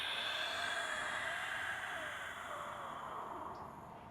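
A long, soft exhale during a yoga flow, a breathy airy rush that fades gradually over a few seconds, quiet and close, with no talking.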